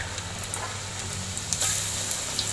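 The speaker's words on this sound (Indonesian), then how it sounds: "Kemudian kita goreng untuk kedua kalinya." Sanggara peppe, Bugis banana fritters that were pressed flat, sizzle in hot oil during a second frying: a steady, low crackling hiss with a few brief pops near the end, heard alone over a faint hum.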